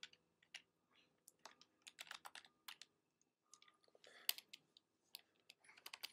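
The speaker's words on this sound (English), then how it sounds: "So you need to type in the name of the person that you would like to send an email to." An email address being typed on a computer keyboard, with quiet, close key clicks in quick irregular runs and brief pauses.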